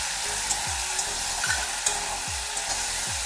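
Spices with green chili and ginger paste fry in a pan at a village-style Bengali stove, a soft continuous sizzle broken by repeated scraping strokes of a stirring spoon roughly every half second.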